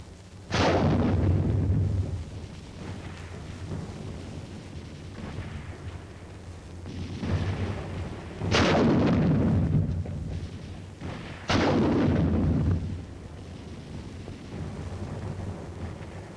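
Automatic rifle fire and 3.5-inch bazooka shots during a 1951 Korean War combat assault: several heavy booming blasts spaced seconds apart, each loud and rumbling, with lower-level gunfire and battlefield noise filling the gaps.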